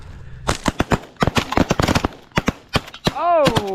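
Shotgun fire while hunting pigeons: a rapid, irregular string of sharp, loud blasts, some in close succession, with a voice calling out at the end.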